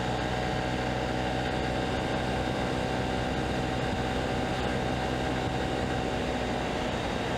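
A 2023 Honda CB125F engine drones steadily under a constant loud rush of wind while riding, with no pauses and no talking.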